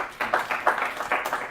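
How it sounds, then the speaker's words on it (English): A small audience claps in a short burst of scattered, uneven hand claps heard at moderate distance. "let's clap for him"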